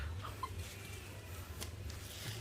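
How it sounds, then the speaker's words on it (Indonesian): A turkey lets out a couple of faint, brief clucking calls near the start, then falls quiet over a low background rumble outdoors. "Ini adalah ayam kalkun."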